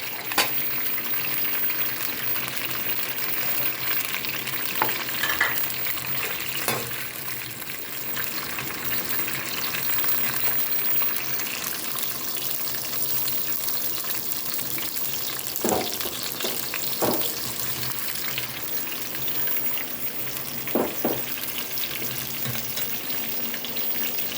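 Chopped onions sizzle steadily in hot oil in a pot while cooking beef yakhni pulao, a continuous frying hiss with occasional stirring scrapes and clinks, close and fairly loud, with no one talking.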